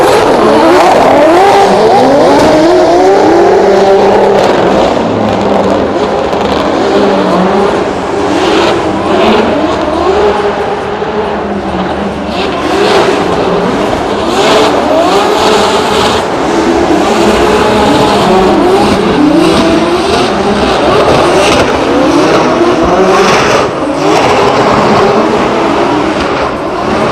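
Drift cars at Drift Masters in Germany run a night practice tandem, engines revving hard and roaring loudly throughout alongside squealing, skidding tires, with pitch rising and falling as the cars slide together.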